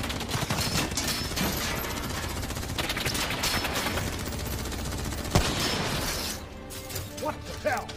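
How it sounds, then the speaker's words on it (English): Dense, continuous gunfire in the shooter game Call of Duty Black Ops 3, a loud roar of overlapping shots and mechanical clatter that fills most of the stretch before thinning out near the end, with a sharp impact partway through. "What the hell? Who's shooting?"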